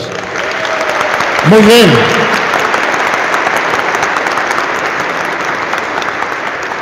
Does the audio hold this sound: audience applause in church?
yes